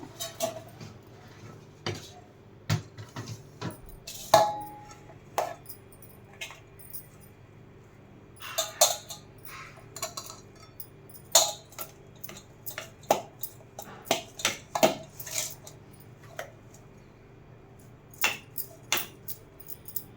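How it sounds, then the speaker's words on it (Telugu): Cooked rice is scooped from a cooker into a basin for spicy tomato rice: scattered metallic clinks and scrapes of a ladle against the cooker and bowl, sparse and irregular, close by, with quiet gaps between. "ఇప్పుడు రెడీ అయిన అన్నాన్ని కుక్కర్ నుంచి దింపి బేసన్లో వేసుకోవాలి"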